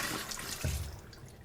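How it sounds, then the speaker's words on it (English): Running water rinses a Maestri House milk frother, a close splashing gush under the tap with a brief low slosh midway before the flow tapers off, no talking. "Just 1 rinse with water,"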